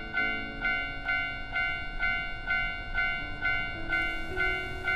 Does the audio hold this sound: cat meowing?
no